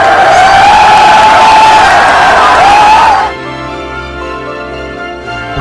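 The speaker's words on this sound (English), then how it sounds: "the Irish fans are overwhelming the American crowd" Irish fans in a Las Vegas crowd cheer and whoop loudly in a dense, sustained roar that cuts off abruptly partway through, leaving quieter room noise.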